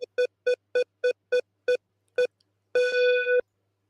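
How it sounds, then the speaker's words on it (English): A phone scrambler sound effect dials a number as eight quick, evenly spaced touch-tone beeps, then holds a longer tone after a short pause. The beeps are clear and stand alone with no voices. "here's the random phone scrambler to select our first player"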